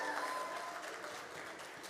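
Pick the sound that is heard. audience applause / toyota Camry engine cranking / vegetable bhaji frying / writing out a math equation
audience applause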